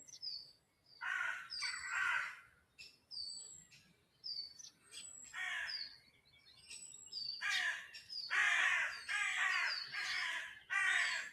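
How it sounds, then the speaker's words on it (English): Crows caw repeatedly outdoors in a quiet setting, several harsh calls in short bursts spread through the clip at moderate distance, with a few higher chirps from other birds between them. "The bird life is with us today."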